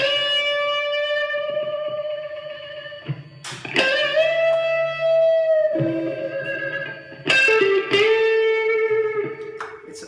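A clean, bright electric guitar played through a compressor for long sustain with a little reverb. Single sustained notes and bends ring out one after another, with no distortion and no talking.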